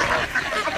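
Ducks on a farm quack and honk in a noisy, crowded outdoor scene, their calls blending with surrounding voices and commotion.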